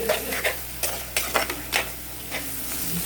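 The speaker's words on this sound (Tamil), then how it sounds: "நம்ம கொஞ்சமாக உப்பு சேர்த்து வதக்கிக்கலாம்." Tomatoes sauté with salt in oil for fish kulambu, a soft sizzle under repeated scraping strokes of a spoon against the pan, near and without talk.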